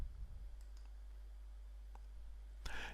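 A few sharp computer mouse clicks while setting up a Joomla 3 website, spaced apart and fairly faint against a quiet room hum, ending in a slightly louder burst of clicking.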